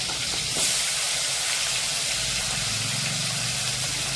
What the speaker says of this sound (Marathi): आता ही वांगी छान पोरतो आपण त्याच्यामध्ये त्याला परतून परतून घ्यायची बारीक गॅसवरती